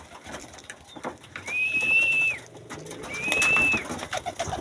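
Pigeons cooing, two drawn-out steady calls a second or so apart, fairly close and clear over quiet background rustling and soft knocks.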